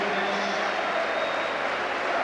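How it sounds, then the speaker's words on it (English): Football crowd applauding as players climb the steps at the 1989-90 ZDS Cup Final between Middlesbrough and Chelsea, a steady, distant wash of clapping and crowd noise filling a large stadium. "And they're getting a great reception from the crowd."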